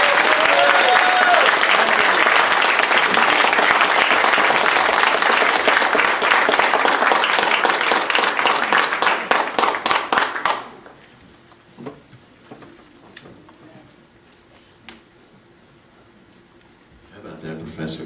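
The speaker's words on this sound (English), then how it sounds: "let's give Landry a round of applause" A Sunday Assembly audience gives a performer loud, sustained applause that fills the room for about ten seconds, then cuts off abruptly into near quiet with only a few stray clicks and faint rustling.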